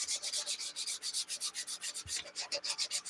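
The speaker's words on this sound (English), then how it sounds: "I wish I had something I could use that make this easier as far as like sanding the shoes" Shoes sanded by hand with quick, rhythmic back-and-forth strokes, a close, soft, raspy scrubbing repeated steadily with no talking.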